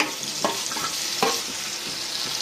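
Green chilies and chopped garlic fry in a pan for Punjabi tadka Maggi, giving a loud, close, continuous sizzle broken by two distinct spoon scrapes as the mix is stirred.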